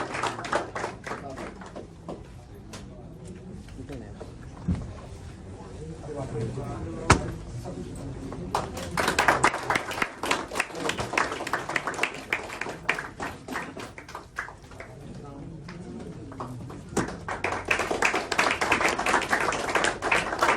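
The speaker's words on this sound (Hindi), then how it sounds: "एक बार क्लैप फॉर जयंत" Audience applause for theatre artist Jayant Gadekar at a Hindi play event, a broad wash of many hands clapping that swells in bursts and continues steadily, with voices audible around it.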